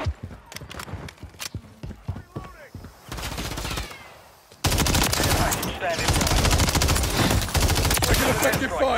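Gunfire in Call of Duty: Modern Warfare 3 multiplayer starts as scattered sharp shots, then breaks into loud continuous automatic fire for the second half, close and dense, with faint voices underneath.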